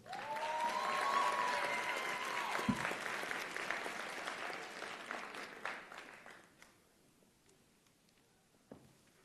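Audience applause at a graduation convocation ceremony, a broad steady wash of clapping that holds strong for about six seconds and then thins out to scattered claps, with a faint tone and murmuring underneath.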